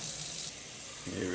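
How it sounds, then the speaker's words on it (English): Hot water running from a tap, a steady rushing flow close by, with a voice speaking briefly at the end. "crank that water up. Make sure it gets nice and hot."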